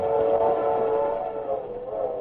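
A steam train sound effect in a radio drama, a loud sustained whistle-like tone with a steady rumbling underneath, held continuously and swelling slightly near the end.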